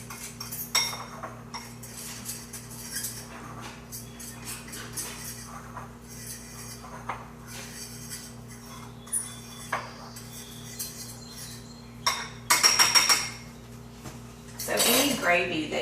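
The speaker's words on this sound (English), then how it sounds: "And I'm just going to keep stirring this and getting the lumps out." Butter melting into a roux for Southern chocolate gravy, stirred in a pot with a wooden spoon: soft scraping and occasional clinks of utensil against the pot over a low steady hum, with a louder rattling burst near the end.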